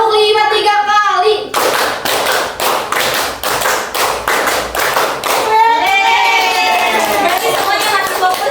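A class of children claps together in a counted rhythm during a classroom lesson. Crisp, loud group claps fall in a steady repeated pattern between bursts of children's voices speaking and chanting before and after.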